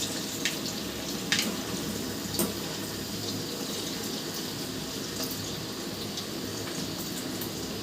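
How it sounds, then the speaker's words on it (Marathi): Coriander vadi pieces fry in hot oil, giving a steady bubbling sizzle close by with a few brief sharper crackles over the constant hiss. "तर पहा आता आपण तळून घ्या थोड्या थोड्या टाकायच्या"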